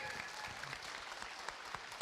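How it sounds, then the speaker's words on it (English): An audience at an animation school livestream applauds the filmmakers, giving steady, fairly faint clapping throughout. "let's have a big round of applause for all of our Artur filmmakers."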